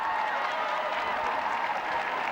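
Audience at an ice dance competition applauding steadily, a dense, even wash of clapping from a large arena crowd with no breaks.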